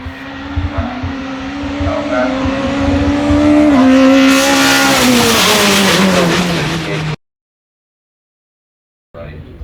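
A small Chevy race car at a Curborough two-lap sprint, engine droning then climbing loudly through the gears, nearby and passing, cutting off abruptly before faint noise returns.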